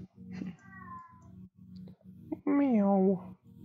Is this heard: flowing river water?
no